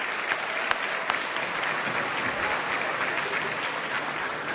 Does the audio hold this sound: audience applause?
yes